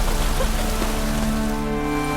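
Heavy downpour in the video game The Witcher 3: Wild Hunt, a steady dense hiss of rain on surfaces filling the whole clip, with low rumbling and tonal game ambience underneath.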